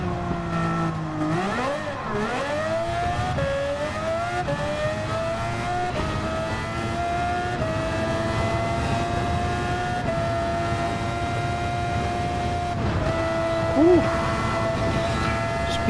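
Race car engine in the video game Gran Turismo 7, revving up through the gears in rising whines, then holding a loud sustained high-pitched drone with a brief shift blip near the end.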